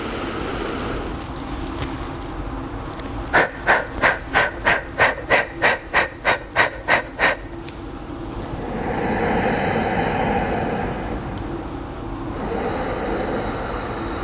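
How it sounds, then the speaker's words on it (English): Steady, deep rhythmic breaths during a yoga sequence, a quick run of about a dozen even, forceful puffs standing out clearly, then slower soft inhales and exhales against a quiet background, with no talking. "Breathing in."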